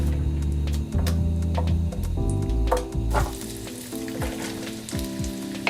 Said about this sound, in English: And let it cook, stirring occasionally, until the pumpkin turns from orange to yellow.